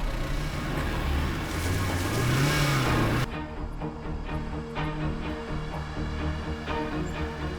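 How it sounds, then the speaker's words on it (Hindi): A car engine running and rolling in, a steady mid-pitched drone that rises in pitch before cutting to a lower, rougher idle rumble, loud and close with no talk. "गाड़ी अंदर ले।"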